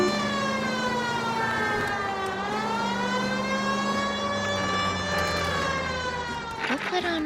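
A wailing police car siren in the video game L.A. Noire, its pitch sweeping up and down continuously and loud, with a voice speaking over it and a brief clatter near the end.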